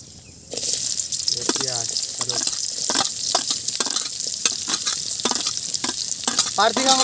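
Food fries in hot oil for chicken chow mein, starting abruptly into a loud, steady sizzle with stirring scrapes and clinks of a utensil, close up, as people talk intermittently over it.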